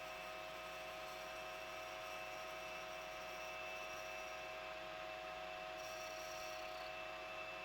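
A lathe takes a light skim cut on a hydraulic fitting for a pressure sensor, giving a faint, steady machine hum with a thin whine that runs evenly and without pause.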